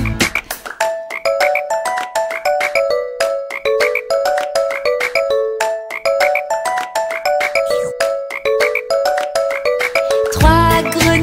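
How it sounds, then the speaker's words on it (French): Green speckled frogs croak repeatedly in a steady, bouncy rhythm over a bright children's song melody, the croaks loud and up close with a quick tinkling flourish near the end. "Restait trois grenouilles vertes mouchetées."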